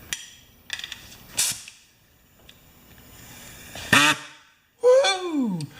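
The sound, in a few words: pneumatic air tool running on compressed air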